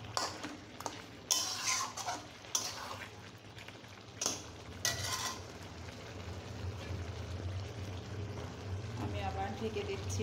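Beef curry is stirred in a metal pot, with scattered scrapes and clinks of a spoon over a steady low hum and simmering.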